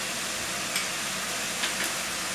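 Turmeric sautés in hot oil with fried onion and garlic for prawn masala, a steady close sizzle and hiss throughout, broken by a couple of faint stirring ticks.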